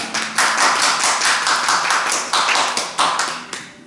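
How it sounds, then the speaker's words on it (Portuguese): A church congregation claps together at the close of a worship service, a dense, close patter of hand claps with a few sharper individual claps standing out, steady throughout with no talk over it. "Vamos aplaudir o Senhor, que Ele merece toda a honra e toda a glória."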